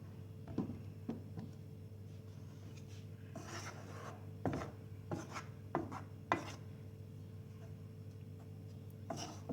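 Flour being stirred in a pan for Turkish flour halva, with soft scraping strokes and light taps of the spoon against the pan at an irregular pace, faint and close over a low steady hum.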